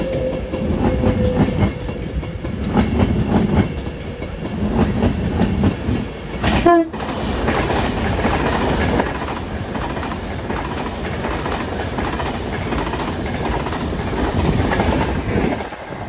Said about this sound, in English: also coming through will be a Advance West Coast service from London Euston to Glasgow Central